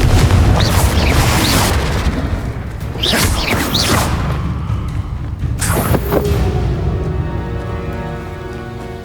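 Confringo and Incendio spell explosions in the video game Hogwarts Legacy, several heavy booming blasts in quick succession with crackling debris and a fading rumble between hits.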